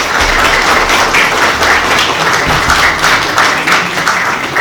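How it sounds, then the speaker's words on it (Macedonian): An audience at a children's cultural center festival evening in Karpoš claps steadily, a dense, sustained round of applause filling the hall without pause. "Ве молам за еден аплауз."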